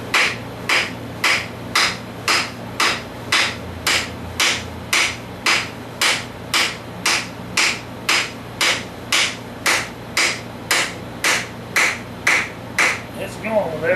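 A hammer taps a handle onto a tool head in an even, rapid series of roughly two dozen crisp, close strikes, with faint room noise between the blows.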